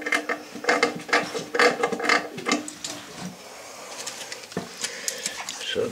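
Ratchet wrench tightening bolts on a broken toilet flange during a wax ring repair, a rapid run of close, sharp mechanical clicks in bursts, then quieter scattered clicks toward the end.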